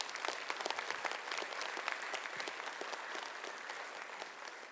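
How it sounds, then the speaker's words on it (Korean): Dense, steady applause from a congregation at a Sunday church service, many hands clapping together continuously at moderate loudness throughout. "한번 뜨거운 박수로 청해."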